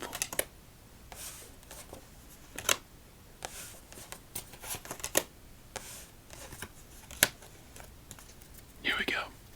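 Playing cards are shuffled and stacked in a quiet ASMR solitaire session, giving close, crisp riffles and taps in irregular bursts while a soft voice talks in between.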